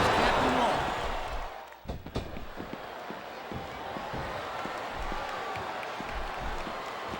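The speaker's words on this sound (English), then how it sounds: "Sounds like this capacity crowd has something on their minds, Taz." Capacity arena crowd in a wrestling video game, a steady roar of voices with scattered impacts and thumps, while commentary voices talk over the noise throughout.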